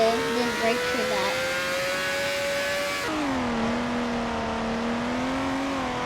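A car driving in the Roblox Car Tycoon game, with a steady synthetic engine hum whose pitch rises and then drops sharply as if shifting, continuous and close, under faint background noise.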